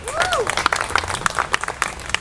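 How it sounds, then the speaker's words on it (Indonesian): A church congregation bursts into applause and cheering, with dense rapid clapping and a few rising vocal whoops up close, loud and lively throughout. "Berikan sorak-sorai buat Tuhan"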